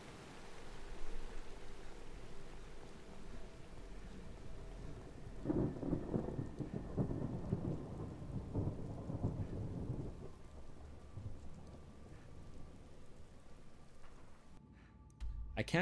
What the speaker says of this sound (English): Good sound effects for the thunder as well.